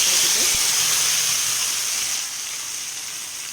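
Marinated raw banana pieces for a crispy valakkai fry sizzle loudly in hot oil in a kadai, a bright continuous hiss easing slightly toward the end, with low soft voices beneath.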